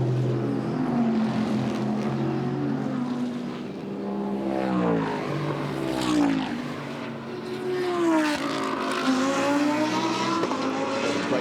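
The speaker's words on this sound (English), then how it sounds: "Great sounds these cars make. Hammering past." GT race cars at the Sachsenring circuit during an ADAC GT Masters race, engines howling loud and close as several cars hammer past in succession, each pitch rising and falling with gear changes and Doppler sweeps.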